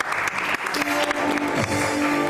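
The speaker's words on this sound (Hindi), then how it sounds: "महम वसीम के लिए बहुत सारी तालियां।" A studio audience on a Pakistani entertainment talk show gives a short burst of applause, with music or tones sounding underneath.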